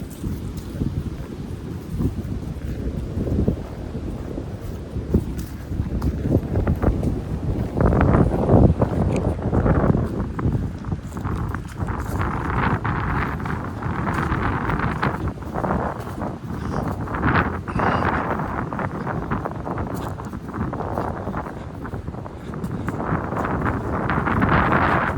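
Strong wind roars steadily across a mountain trail on the Appalachian Trail, buffeting the microphone in loud, continuous gusts that swell and ease for the whole stretch, with no talking.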